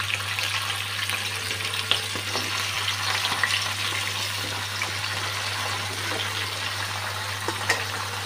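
Malabar spinach leaves and potatoes dropped into hot oil in a pan, a loud continuous close sizzle and crackle with occasional stirring scrapes, no voices over it.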